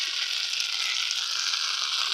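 Okra and egg frying in a pan while being stirred, a steady close sizzle with a soft continuous hiss and no talking.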